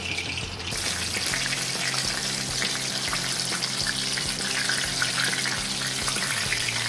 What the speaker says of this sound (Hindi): इसी तरह से हमने सभी स्प्रिंग रोल फ्राई कर लिए हैं।